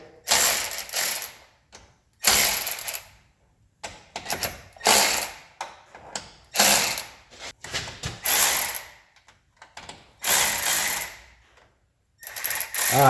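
Hand ratchet loosening bolts on a 1978 AMC Gremlin, heard as repeated bursts of rapid pawl clicking, roughly eight close, loud strokes separated by brief pauses, with no talking.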